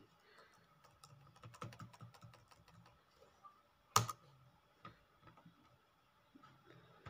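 Customer data being typed on a computer keyboard in retail software, with bursts of close, quiet key taps, one sharp click in the middle, and soft talk mixed in.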